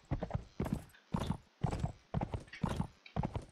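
Horse hooves clip-clopping in the video game Mount and Blade With Fire and Sword, a rapid galloping rhythm of close, loud hoof strikes in regular bursts, heard alone with no voices.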